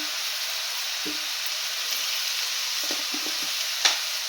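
A spoon stirs a tomato curry with fried onion, turmeric and chilli powder in a pan over a steady, even sizzle, with a few soft scrapes and a sharp clink near the end.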